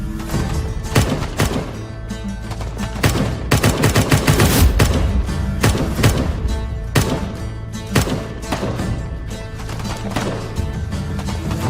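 Heavy battle gunfire in a TV war series: dense bursts of rifle and machine-gun fire crackle and thump almost continuously, loud and close, with no voices over them.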